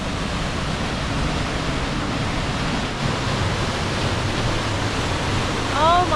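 A mountain stream rushing near a small campsite along a mountain road, a loud, steady broadband roar of flowing water heard close up and uninterrupted.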